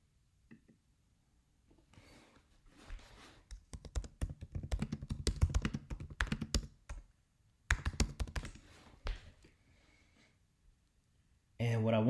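Bursts of rapid key clicks from a computer keyboard being typed on, close and fairly quiet, starting and stopping in uneven runs with pauses between.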